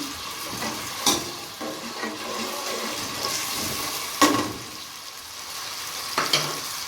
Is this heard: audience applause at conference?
no